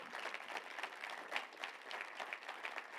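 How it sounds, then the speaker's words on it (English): Steady applause from a large crowd at a political campaign rally in Chicago, a dense continuous patter of many hands clapping, heard from a distance with no talking over it. "Now, yes, you can applaud."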